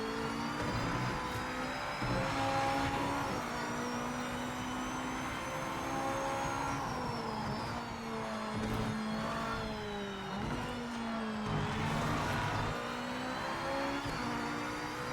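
A race car engine in a racing sim hums steadily at about 30% throttle, a low, even drone with slight rises and dips in pitch that continues without a break.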